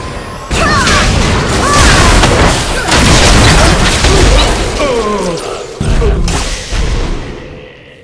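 Explosions and heavy booms from a turret being destroyed in the video game Vi Jungla, with crashing impacts and dense bursts of loud action sound effects filling most of the stretch.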